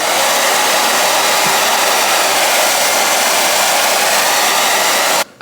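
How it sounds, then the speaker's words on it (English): Hair dryer blowing steadily on wig lace glue during a lace frontal wig install, a loud continuous whooshing roar held for several seconds before switching off abruptly. "So we're gonna blow dry this, and then that will be 1 layer."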